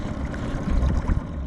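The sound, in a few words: small boat motor idling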